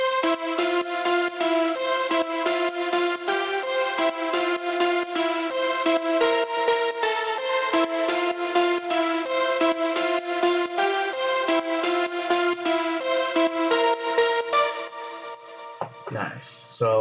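Layered progressive house lead melody of orchestral strings and piano-like tones, a steady continuous run of bright stacked notes that stops abruptly near the end.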